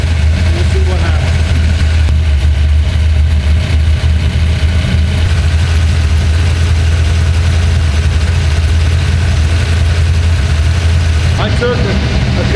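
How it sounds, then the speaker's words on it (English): A Dodge Dart engine idles high and steady after an idle mixture adjustment, a loud low rumble held throughout with a few small clicks and rattles near the start and end. "I took a considerable amount of fuel away from it at idle, and now the idle's like way up."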